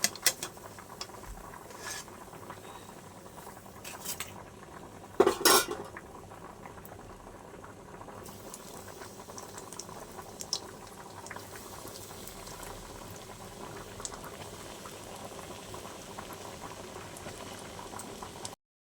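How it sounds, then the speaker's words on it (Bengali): Flattened rice cutlets bubbling in hot oil, a soft continuous frying hiss with a few louder clatters of stirring partway through, no voices. "আমি সবকটা কাকলেটকে এইভাবে লাল লাল করে নেড়ে চেড়ে ভেজে নেব"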